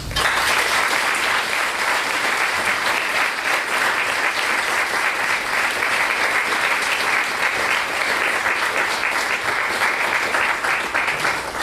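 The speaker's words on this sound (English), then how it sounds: "join me in giving a round of applause" Audience applause fills a hall as an award is presented to Martin Merced at a UC Merced event, a loud, even wash of clapping that runs unbroken and alone throughout.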